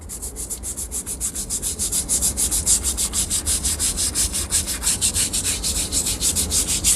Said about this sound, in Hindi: थोड़ा सा अपोजिट डायरेक्शन में भी इसको ब्रश को रगड़ें